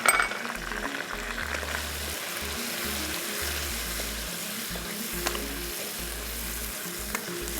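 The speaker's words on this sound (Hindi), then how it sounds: "ये डालने के बाद हमने इसको अच्छा से करना है फ्राई" Ground spices, turmeric, black pepper and salt, fry in a pot for cocktail biryani, giving a steady close sizzle with occasional stirring clinks throughout.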